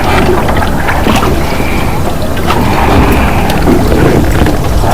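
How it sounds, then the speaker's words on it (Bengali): A tourist boat reverses on Patratu lake with a loud, continuous engine churn and water rumble, heavy wind buffeting the microphone, with a few faint background voices. "বোটটা এসে ঠিক লেকের মাঝখানে প্রায় 5 মিনিট দাঁড়ালো, আবার ব্যাক করে যাচ্ছে।"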